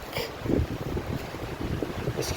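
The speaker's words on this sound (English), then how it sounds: "All of a sudden it got really windy." Strong wind gusting outdoors while clearing brambles, buffeting the microphone with a continuous low roar and uneven surges.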